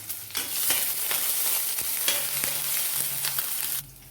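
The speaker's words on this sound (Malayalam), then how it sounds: "ഒരു ചെറിയ കഷ്ണം ഇഞ്ചി ഞാൻ ചോപ്പ് ചെയ്തും കൂടി ഇട്ട് നന്നായിട്ടൊന്ന് ഇളക്കി കൊടുക്കാം" Chopped green chili and a small piece of chopped ginger fry in hot oil while being stirred, a steady close sizzle with scattered scraping clicks of the spoon against the pan, stopping abruptly near the end.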